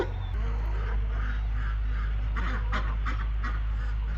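Ducks quack in short raspy bursts over a constant low hum, with chickens and other farm birds nearby.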